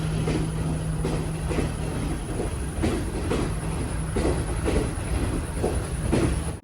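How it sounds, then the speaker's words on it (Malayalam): The Udarata Menike Express, running from Badulla to Colombo Fort in Sri Lanka, rolls into a station with a loud, steady rumble and an even, rhythmic clickety-clack of wheels over rail joints. "ബാദുലയിൽ നിന്ന് കൊളംബോ ഫോർട്ടിലേക്ക് പോകുന്ന ഉദാരത മേനിക എക്സ്പ്രസ് ഇതാ ഇവിടത്തേക്ക് വരികയാണ്"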